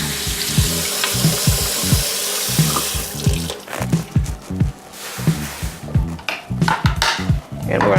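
Spinach leaves are rinsed under a running kitchen tap, with water rushing steadily and then breaking into rhythmic splashes and squishy handling as the leaves are swished and squeezed.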